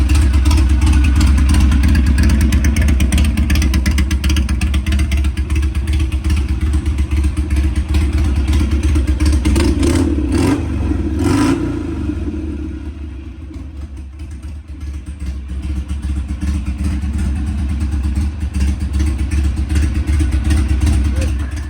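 A Harley Sportster stunt bike engine runs loud and close, a steady deep rumble that eases briefly midway before revving back up, with a voice faintly underneath.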